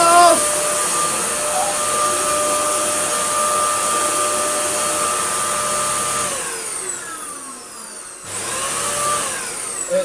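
An old corded vacuum cleaner runs continuously with a high, whining odd tone close by. Its pitch sags as the motor winds down, then it restarts with a rising whine.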